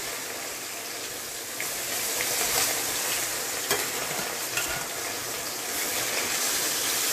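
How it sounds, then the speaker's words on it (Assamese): Pieces of fish frying in hot mustard oil in a pan for a fish curry: a constant, bright sizzle and crackle with occasional stirring, close and steady throughout with no talking. "তেলখিনি গৰম হ'ল, এতিয়া মই মাছখিনি ফ্ৰাই কৰি লওঁ।"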